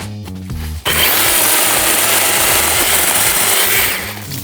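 A Procraft PKA-38 cordless electric chainsaw cuts wood, first whining as it spins up, then bursting into a loud, continuous, rough buzzing grind as the chain bites into the log and holds steady to the end.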